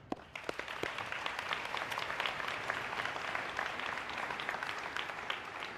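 Sustained audience applause for the PTO and parents fills a school opening ceremony at Salem Elementary, a dense, steady clatter of many hands that starts with a few sharp claps and holds at full strength throughout.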